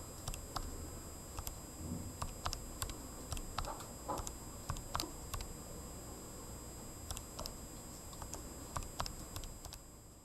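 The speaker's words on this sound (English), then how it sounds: "go ahead on your calculator and go to y equals, clear out the last one we did, and we're going to type in our new one." Keys pressed on a graphing calculator, a string of quick, light, irregular clicks close to the microphone over a faint background hiss, with no talking.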